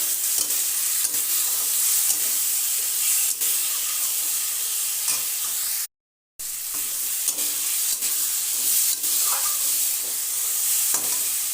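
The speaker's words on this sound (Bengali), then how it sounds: "ঝিঙের সাথে ভালো করে মিশিয়ে নিলাম।" Ridge gourd stirred with a spoon in a hot pan after turmeric powder goes in, a steady loud sizzle with repeated scraping strokes throughout, broken by a brief silent gap.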